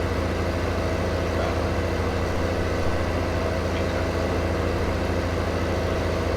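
A steady, low tractor engine drone in a farming video game idles continuously without variation, filling the whole stretch with no voices.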